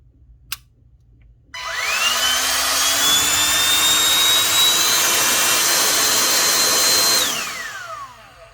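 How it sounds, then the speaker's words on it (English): A Woowind portable electric USB-rechargeable mini air pump starts after a click and runs with a loud, steady whining whoosh for several seconds, its pitch rising slightly before it winds down and stops. "This Woowind portable electric air pump is an automatic mini air pump"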